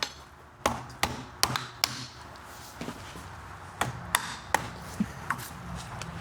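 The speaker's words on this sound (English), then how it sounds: "Use the backside of my drill like a little hammer." The back of a drill serves as a makeshift hammer on a carburetor part for a Duromax XP11000iH generator, giving sharp, irregular metallic taps, about a dozen close knocks spread over several seconds.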